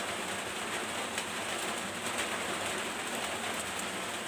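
Heavy rain pours steadily at night in a constant dense hiss with scattered drumming drops on a surface, loud and unbroken throughout.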